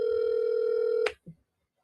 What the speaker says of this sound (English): I'm about to call him back.